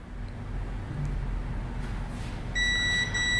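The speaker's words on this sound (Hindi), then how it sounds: "जैसे बीप साउंड में तो आपको लगता है ना फुल शॉर्ट है" Multimeter continuity beep while probing a short on a Redmi Note 9 phone circuit board, a steady electronic tone coming in near the end over a constant background hum.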